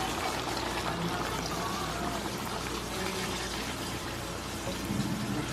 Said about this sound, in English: after adding the potatoes, we're going to add some water.